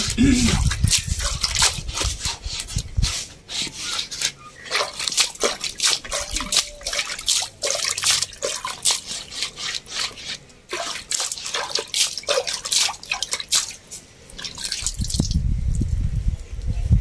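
Dishes are washed by hand under running water, giving a stream of clinking, dripping and splashing sounds with bursts of faucet flow at the start and end.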